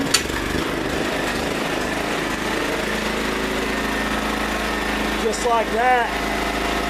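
A small Generac generator engine starts and settles into a steady, fairly loud running drone that continues throughout, with someone speaking briefly over it near the end.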